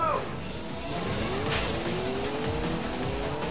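Race cars in the Sonic All-Stars Racing Transformed video game roar with a steady engine drone and squealing tires, rising revving tones sweeping upward throughout, loud and continuous with no talking.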